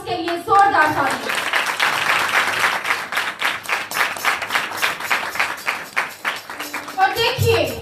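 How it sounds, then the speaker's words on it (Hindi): A congregation at a Christian ministry service claps loudly in a quick, steady rhythm for several seconds, with voices speaking at the start and end. "आइए एक बार फिर रूल कुद्स के लिए जोरदार ताली।"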